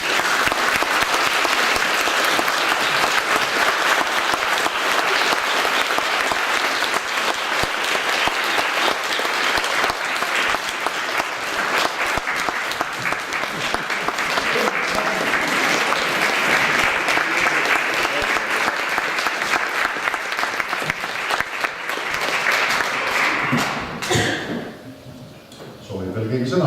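A hall audience breaks into long, dense applause after a speech, the clapping holding steady for over twenty seconds before tapering off sharply near the end.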